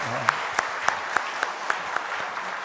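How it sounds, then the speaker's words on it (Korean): Steady applause from a church congregation at a Sunday service, with sharper individual claps standing out at a regular pulse, lasting the whole stretch. "하나님께 영광의 박수를 돌렸으면 좋겠습니다."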